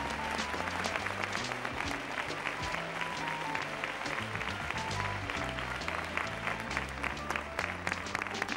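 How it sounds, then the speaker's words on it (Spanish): Studio audience applause for departing contestants on a Spanish game show, sustained dense clapping over a bouncy music backing with a steady beat, lasting several seconds at a moderate level. "debemos despedirles con el fuerte aplauso que se merecen Pablo y Ana"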